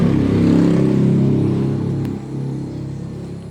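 A Yamaha R3 motorcycle with an upgraded exhaust revs up close, a loud deep throaty drone that holds and then eases off, with no voices over it.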